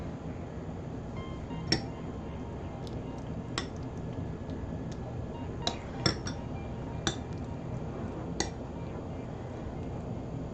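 A spoon mixes Westfall stew in a bowl, giving sparse, faint clinks and taps against the dish over a quiet background hum.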